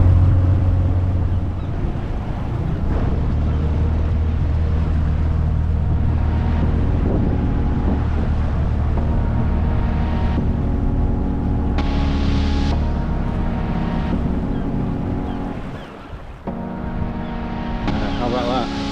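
Boat engine droning steadily at sea near Old Harry Rocks, with rushing water and wind buffeting the microphone throughout, loud and continuous, with a brief dip near the end.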